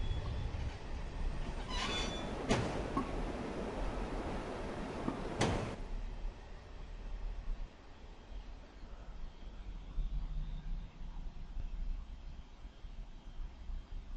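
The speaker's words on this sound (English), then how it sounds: "Looks like our train just coast into the final station." A steam train in the Train Simulator game, on the Somerset and Dorset Joint Railway, coasts into a station with a steady rolling rumble, two sharp hissing bursts and faint wheel squeal, then eases quieter.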